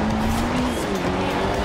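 Car tires squealing through a drift in the racing game Forza Horizon 2 on a hill climb, a loud, sustained screech over the roaring engine that holds steady throughout.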